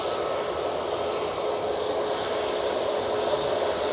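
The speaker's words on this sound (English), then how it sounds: "737 now on the roll." An ETF Airways Boeing 737 rolls for takeoff at Manchester Airport, a steady broadband engine roar at moderate distance that holds level for a few seconds with no voices.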